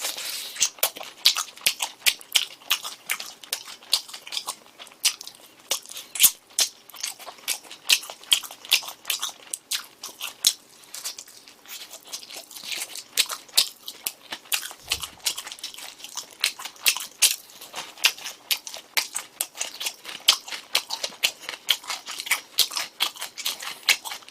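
Crunchy fried chicken from 678 Chicken being eaten up close, a dense run of sharp crackling bites and chewing crunches repeating rapidly throughout, with no talking.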